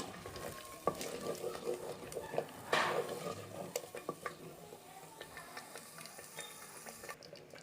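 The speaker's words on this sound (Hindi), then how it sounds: "इसकी मैं मिक्स करी गिनसा।" A spoon stirs tomato paste into a pan of chicken masala, with scattered scrapes and clinks against the pot over a low background sizzle, all close and fairly quiet, with no talking.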